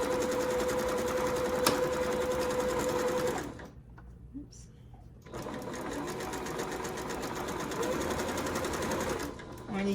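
Domestic sewing machine running steadily while stitching down the long edge of an envelope pillow cover, with a brief pause partway through before the motor picks up again; a voice talks over it near the start.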